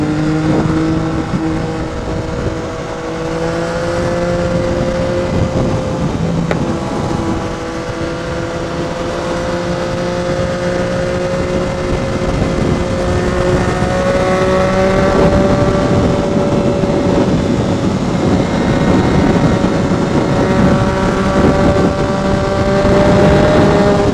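A motorcycle rides through heavy traffic past many cars, its steady engine drone loud and close throughout, with rising and falling engine tones and rushing wind.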